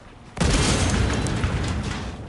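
A loud explosion in the video game Helldivers 2 bursts in suddenly after a quiet moment and then rumbles on as a sustained, heavy roar with scattered crackling, staying strong to the end.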